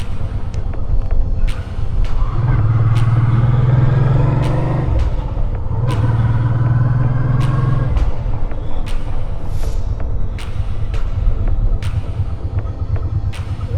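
A motorcycle rides along a winter village road near a wooden fortress, its engine a steady close rumble throughout, rising in pitch twice with revving between brief gear changes, with scattered clicks and no voices.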